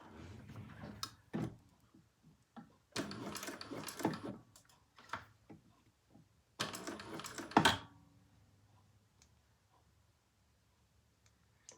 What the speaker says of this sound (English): So this is just sewing the 2 layers together.